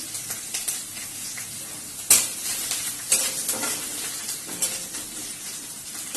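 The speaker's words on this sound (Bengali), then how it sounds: "নারকেলটা দিয়ে দেবো, নারকেল দিয়ে ভাজা ভাজা হবে।" Grated coconut fries in oil with bay leaf and cumin for chira pulao, giving a continuous sizzle with sharp spatula clinks and stirring scrapes, and no talking.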